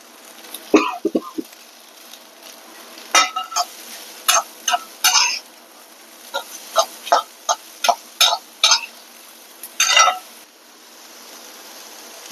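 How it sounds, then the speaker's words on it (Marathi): Vegetables, okra with kokum and salt, cooking in a pan over a low gas flame are stirred in a series of sharp, short scraping strokes, close and loud, separated by quiet gaps over a soft background hiss. "आता ही मंद गॅसवर भाजी शिजू दे."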